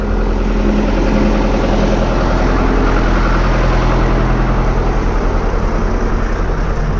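A tractor engine held at around 1400 rpm, a loud, steady, low-pitched drone running unbroken and close by with no talking.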